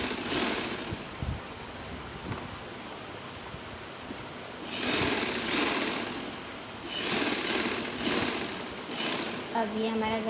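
A sewing machine stitches a kurti neckline in short runs separated by pauses, fairly faint and close, with handling noise in between.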